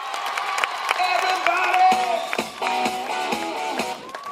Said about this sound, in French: Un tonnerre d'applaudissements pour Ainoa de Artola.